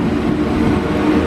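A British Rail Class 195 diesel multiple unit arrives at Leeds station, a loud steady engine hum and rolling rumble close by, with no talk over it.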